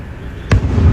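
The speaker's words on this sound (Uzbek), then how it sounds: "Hozirdan mana salyut ovoziga mashinalar signalizatsiya ishlab ketyapti." One sharp firework bang bursts out midway during Uzbekistan football celebrations, followed by a low rumbling tail against quiet background noise.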